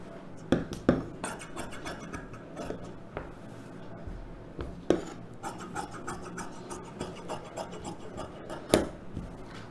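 Scissors cutting through a silk cotton blouse piece, giving a run of close, dry rasping snips and fabric rubs with a few sharper clicks, steady and fairly quiet throughout.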